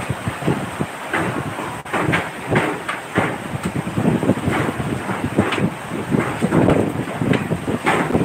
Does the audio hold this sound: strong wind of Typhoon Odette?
yes